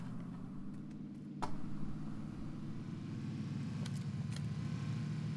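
A car engine drones steadily in PUBG as a vehicle drives past nearby, its low hum swelling and shifting in pitch midway, with a few faint clicks on top.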